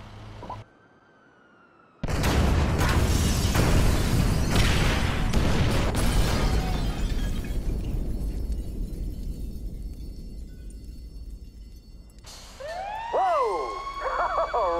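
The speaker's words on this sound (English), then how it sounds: "Detonate the incendiaries, Frank." In Grand Theft Auto 5, incendiaries detonate with a sudden loud roaring blast that fades into a long rumbling burn, and emergency vehicle sirens wail up and down near the end.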